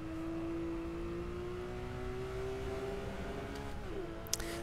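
Racing sim car engine held at a steady, slowly rising tone during heel-and-toe downshifts on track, with a brief blip and a sharp click near the end; no talking.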